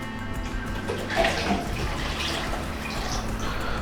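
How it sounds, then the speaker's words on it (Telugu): Water pours steadily into a pot of rice for bagara rice, a continuous splashing stream with a few louder splashes partway through. "దాంట్లో 10 కప్పులు నీళ్ళు పోస్తున్నాను అన్నమాట"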